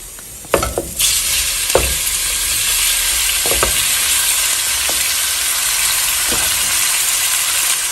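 Long strips of beef steak drop into a hot pot with a burst of clatter, then settle into a loud, steady, close frying sizzle, broken by a few utensil knocks.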